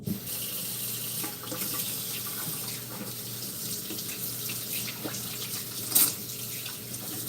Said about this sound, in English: So I'm gonna get my hands washed.